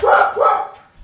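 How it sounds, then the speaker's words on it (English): Pet dogs giving two quick, loud, close barks in a row, the second slightly longer, then a brief tail of quiet. "my dogs are just in a wuffy mood today"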